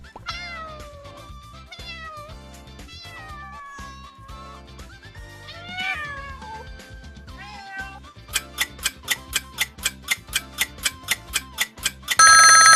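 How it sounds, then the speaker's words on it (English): A domestic cat meows several times in a row, clear and close, with rising and falling calls. A steady run of ticking beats follows, then a brief bright chime. "A cat!"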